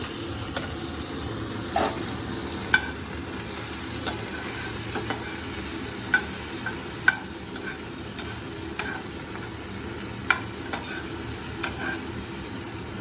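Onion, boiled potato and cauliflower frying together in a pan, a steady sizzle with regular spatula scrapes and taps against the pan every second or so, no talking.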